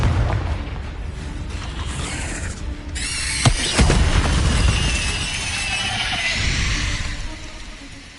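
Spell explosions from the Confringo curse in the Hogwarts Legacy video game, with a sharp blast around the middle followed by crackling, debris-like bursts over a constant mechanical, rumbling game backdrop.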